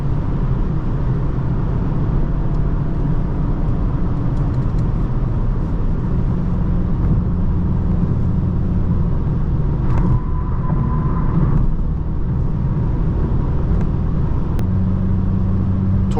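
A 2025 VW Jetta GLI accelerates hard on the Autobahn, with loud, continuous engine and road rumble from inside the cabin and a steady drone that shifts in pitch as it gains speed.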